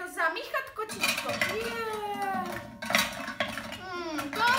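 Utensils clink and scrape against a dish as cake batter is stirred in a cartoon kitchen, with a childlike character's voice talking over the stirring.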